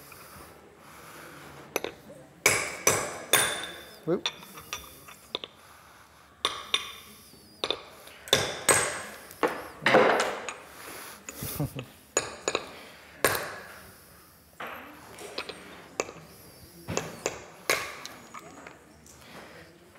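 Sharp hammer taps crack against hard mosaic tile pieces cut on a hardie, coming in irregular bursts, close by, with a brief spoken exclamation.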